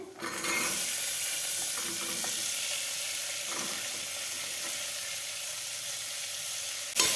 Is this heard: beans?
yes